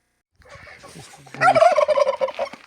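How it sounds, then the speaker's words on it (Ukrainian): Turkeys grazing outdoors let out a loud, close burst of rapid gobbling that follows a quieter stretch of softer fowl calls. "Індюки пасуться, випустила їх трошки."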